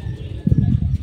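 Kokka pigeons coo close by, a soft, low, throaty burst of several quick pulses rising out of quiet background hum.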